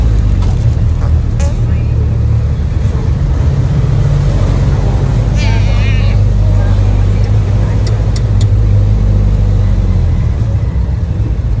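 A habal-habal motorcycle taxi engine drones steadily throughout the ride, a constant low rumble with wind noise, and a voice talks faintly at times over it.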